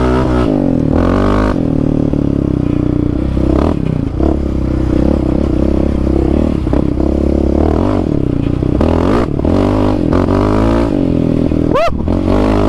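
Yamaha Raptor 700 ATV engine revving hard on a test ride, loud and close, with rising and falling pitch through gear changes, rattles and wind buffeting, and a brief whoop near the end.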